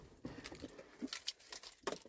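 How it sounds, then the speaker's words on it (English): Keys for a 2004 Honda Pilot jangle close by in a few quick, bright metallic clinks and rattles, quiet and alone. "I got the keys in here."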